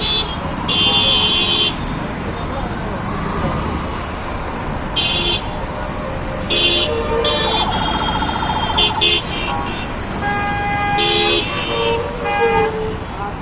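Dense traffic jam on Hanif Flyover, with repeated car horns honking in short bursts over a steady roar of engines and road noise, some tones sustained, the horns fairly near and loud.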